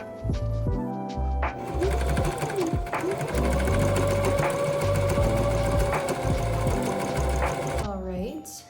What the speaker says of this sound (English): I just finished sewing the straps.